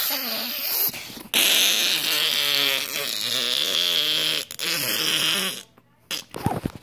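A voice imitates a drawn-out, wobbling fart, buzzing and bending in pitch for several seconds, then trailing into quieter noises.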